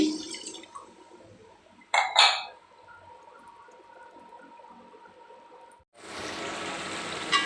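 A little water goes into spice paste of coriander, cumin and garam masala powders frying in a pan for a broiler chicken and masoor dal curry: a couple of brief splashes, a quiet stretch, then a loud, steady hiss.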